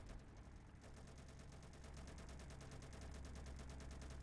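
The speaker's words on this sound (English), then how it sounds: "I'm just shooting them crazily with my machine gun" A plane's machine gun in a video game firing a rapid, steady stream of rattling shots that starts softly and grows denser, heard over a constant low engine drone.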